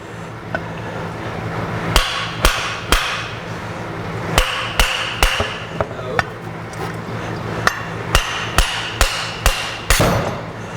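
A hammer taps repeatedly on a Subaru VF43 turbocharger to separate its aluminum housing from the cartridge, a dozen or so sharp metallic strikes in uneven bursts, close and loud, with faint talk between.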